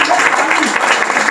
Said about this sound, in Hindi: सर के नाम पे ताली एक बार फिर से।